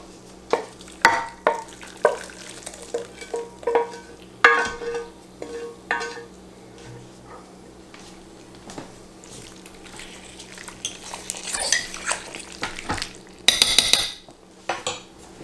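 A spoon stirs beef stew in a pot with seasoning just added, giving irregular close scrapes and clinks against the metal over a faint simmer, with no talking.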